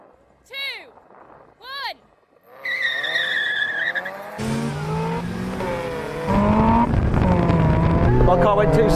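Supercharged Mazda Roadster at a drag race launch, tyres skidding and engine revving hard as it pulls away, loud and sustained under excited talk, following a few short revs.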